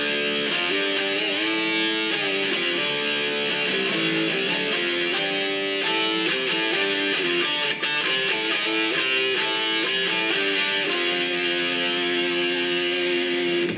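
Sustained electric guitar chords and melodic lines run through a TC Harmonizer pitch-shifting pedal that adds a harmony a fourth below, played alone at moderate volume without interruption for about fourteen seconds.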